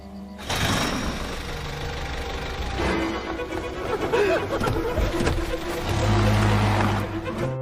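A pickup truck engine roars as it drives away fast down a narrow, dark road in the Korean film Deep Trap, loud and close, rising near the end. Voices mix in briefly.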